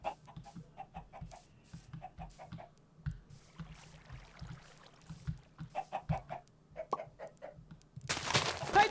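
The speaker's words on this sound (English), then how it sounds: "I just heard a chicken lay an egg." A Minecraft chicken clucks in short repeated bursts after laying an egg, with a sudden noisy burst near the end.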